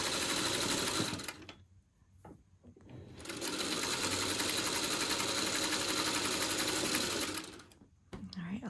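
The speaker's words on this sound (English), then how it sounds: "We're just going to sew a 1/4 inch seam." A sewing machine stitches a quarter-inch quilt seam on quilt blocks, running in two steady bursts with a short pause between them and then a brief stop near the end, the motor's whir close and even.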